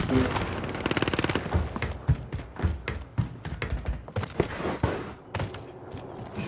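Rapid automatic gunfire rattles in bursts in a shooting video game, with dense strings of sharp shots and heavier single thuds, loud and close throughout.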